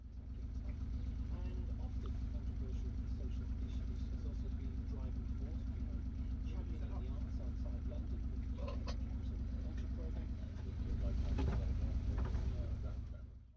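A low, steady boat engine rumble runs throughout with a constant throb in a canal lock, joined by faint clanks and splashes and a slight swell in loudness near the end.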